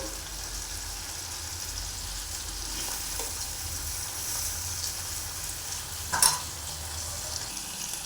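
Light, steady sizzle of egg kurma masala frying gently in a pan, a continuous soft hiss with one brief clatter near the end, no talking.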